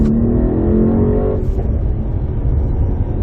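A 2019 Mercedes-AMG E63 S pulling hard under acceleration, its engine note rising as a loud, close, throaty roar for about a second before settling into a steady, rushing drone of road and wind noise; nobody speaks.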